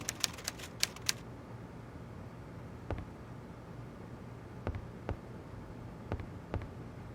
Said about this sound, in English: I say, Poirot, he seems to be typing up quite a storm.